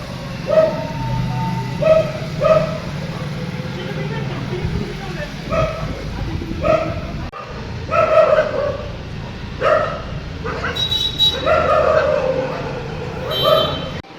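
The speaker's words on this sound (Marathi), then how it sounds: "कुत्रे पकडायची गाडी आली आणि कुत्रे इतके भुकायला लागले" Several dogs bark repeatedly in sharp bursts at a dog-catching van arriving in the morning, some barks near and some farther off, with a yelp or two, over low vehicle rumble and someone talking.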